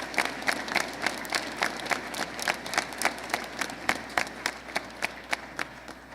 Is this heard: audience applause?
yes